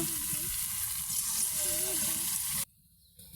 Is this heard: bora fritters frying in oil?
yes